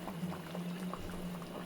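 Hilsa fish curry with kochu (taro) coming to a boil in a pot, a steady low bubbling simmer with soft intermittent pops, close and continuous, no talking.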